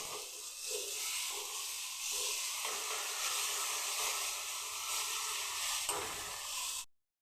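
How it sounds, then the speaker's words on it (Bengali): Masala spices frying in a pan for a Bengali cauliflower and egg dhoka, giving a steady, close, loud sizzle with stirring scrapes throughout, no voices, and a sudden cutoff near the end. "মশলাটা একটু ভালো করে কষিয়ে নিতে হবে"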